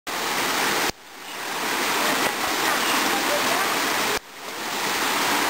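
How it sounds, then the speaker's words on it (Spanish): Waterfall at the La Quebrada dam roars as a steady broadband wash of falling water, loud and close, twice briefly cut off and resuming. "¿Qué es esto? Dios mío, cascada."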